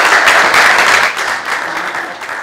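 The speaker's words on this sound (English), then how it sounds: "if we could give a warm round of applause for our student helpers, Jena and Lurk, for the first presentation." Steady applause from an audience, a dense wash of clapping that holds for a couple of seconds and eases slightly toward the end.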